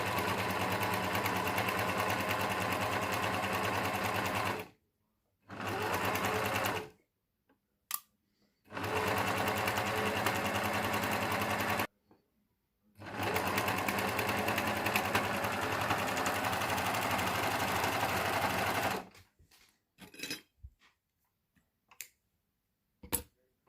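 A domestic sewing machine stitching a hem, a steady rapid mechanical whir in several long runs broken by short stops, then scattered clicks and taps, close by with no speech.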